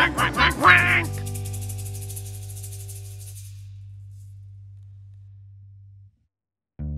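A quick burst of several duck quacks sounds loud and close at the start, then gives way to a long sustained electronic tone that fades out before a brief final sound.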